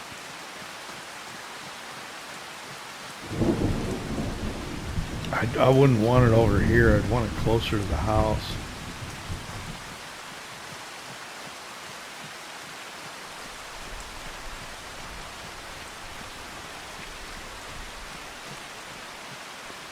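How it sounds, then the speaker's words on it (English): Steady rain hisses throughout a Farming Simulator 25 storm, a soft, even wash that a voice talks over for several seconds. "So I don't know how long we got to wait for the rain to stop."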